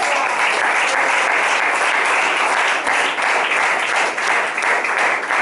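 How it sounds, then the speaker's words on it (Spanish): A church congregation claps steadily, many hands making a thick, even rush of applause that holds at a constant level throughout with only slight swells. "Si va a aplaudir, hágalo con gozo y alegría"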